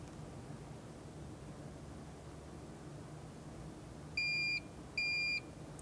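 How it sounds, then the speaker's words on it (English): Two clear electronic beeps, each about a third of a second and spaced close together, confirm ignition key programming on a 1994-2004 Ford Mustang after a lock cylinder replacement, over a faint steady background hiss. "There's the two beeps and we are programmed."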